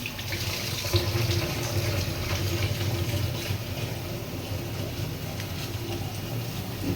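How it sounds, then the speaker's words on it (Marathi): Water from a tap runs steadily and close by over spinach being washed, splashing and rushing without pause the whole time. "एकदम सगळी नळाखाली धुवून घ्यायची"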